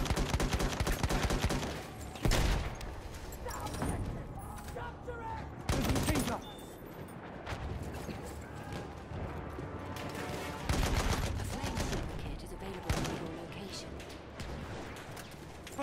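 Chaotic Battlefield 1 battle with bursts of machine gun fire and scattered gunshots, loud close volleys and heavier blasts at intervals amid constant combat noise, with shouted voices in the mix.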